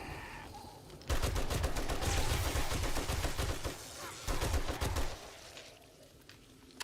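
Rapid automatic gunfire in 7 Days to Die, fired at enemies in a moat below, sounding as loud close bursts of repeated shots for about four seconds with a short pause in the middle before it fades.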